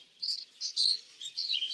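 Parakeets in an aviary giving short high chirps and tweets in quick irregular bursts, fairly faint against a quiet background, with no talk.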